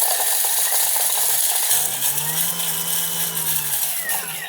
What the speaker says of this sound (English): So now we're getting these into the blender.